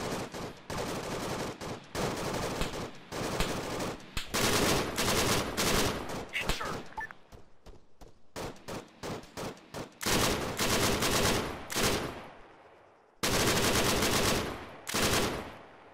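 Machine guns rattle in ARMA 3 in long, loud bursts that stop and start, with short quiet gaps between volleys and a brief lull near the middle.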